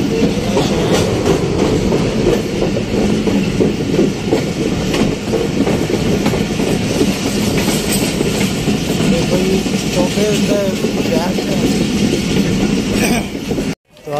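A moving train in Pakistan on a route toward Faisalabad, heard from inside the carriage as a loud, steady rumble with rhythmic clickety-clack of the wheels on the rails that continues without a break.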